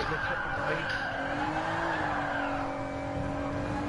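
Car tyres squeal in a long skid as the rear slides out in a PS4 racing game, over a continuous droning engine note.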